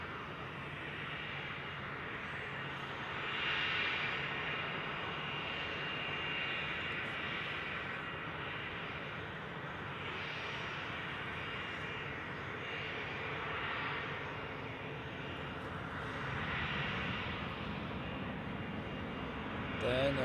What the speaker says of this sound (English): This should be a Citation.